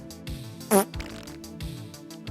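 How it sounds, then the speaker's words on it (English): A wood thicknesser, clogged with sawdust after two passes, lets out one brief blurting puff amid rhythmic mechanical thumps and the hum of the machine nearby. "It clogs up after 2 passes and then you get that, like a thicknesser sawdust fart."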